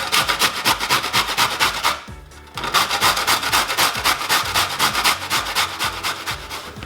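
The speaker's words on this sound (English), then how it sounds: "So what we're going to do is we're going to grate the carrot." A carrot is rubbed briskly against a fine grater for soup, a fast rhythmic rasping of close, even strokes with one short pause partway through.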